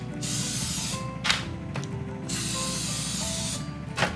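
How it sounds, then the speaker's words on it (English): Steady hissing spray from a cooking spray can onto molds, continuous for several seconds with a couple of brief breaks, close up. "So I'm gonna spray these as well."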